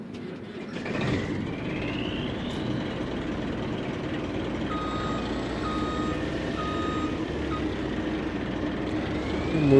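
Truck in Farming Simulator 25 reversing, with steady faint beeping over a continuous engine rumble and a rising whine, no talk.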